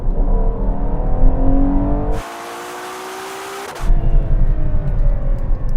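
A Ferrari Purosangue launches from a race start, its engine roaring and climbing through the revs, cut briefly by a gear change before surging again, loud and close with no talk.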